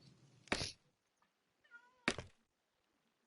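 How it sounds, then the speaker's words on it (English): Cats meowing in the video game Minecraft: two loud, short meows about a second and a half apart, with a faint higher mew between them and nothing else in the background. "A menagerie of cats."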